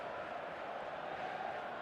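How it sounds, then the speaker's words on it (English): Steady murmuring roar of a stadium crowd in a football video game, restless and sustained at an even, moderate level without distinct cheers. "the crowd's impatience is an indicator that they haven't quite given up on a goal just yet"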